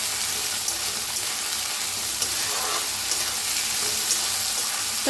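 Cluster beans (gavar) roasting in a hot pan, a steady close sizzling and crackling hiss that runs unbroken throughout with no talk.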